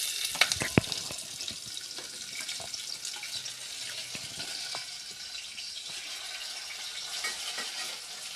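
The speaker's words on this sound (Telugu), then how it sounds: "ఉల్లిపాయలు అనేది బ్రౌన్ కలర్ వచ్చే వరకు ఫ్రై చేయాలి." Onions and bay leaf frying in oil for mutton biryani give a bright, even sizzle held at close range, with a couple of sharp clicks near the start and faint scattered taps, with no talking.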